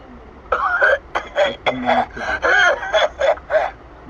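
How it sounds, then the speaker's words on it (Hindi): A cartoon lion coughs loudly in about eight harsh, voiced bursts in quick succession, performed by a human voice. "तभी अचानक शेर सिंह जोर जोर से खांसने लगता है"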